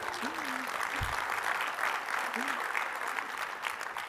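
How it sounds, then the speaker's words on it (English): An audience at a Scouting America national event applauds a speaking engineering student, a dense steady wash of clapping throughout with a faint voice briefly audible beneath it. "Clapping is a good sign."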